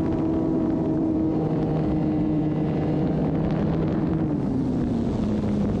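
A trainer model airplane engine drones at full throttle, a steady high-pitched buzz with slowly drifting pitch, heard outdoors at a distance with wind noise and no talk.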